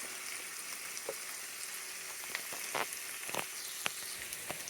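Onions caramelize in a pan for Hungarian stuffed peppers, giving a steady, even sizzle with scattered small pops and crackles throughout.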